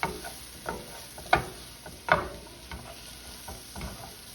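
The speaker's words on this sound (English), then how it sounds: "I'll let those mushrooms cook down a little bit." Mushrooms fry in bacon fat in a pan, giving a soft, steady sizzle punctuated by a few sharp pops and spatters, close and quiet.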